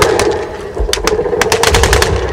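Rapid bursts of cannon and gunfire at a battle reenactment of the Gumbinnen battle, sharp reports clustered in quick succession over a steady background rumble, loud and fairly close, no voices.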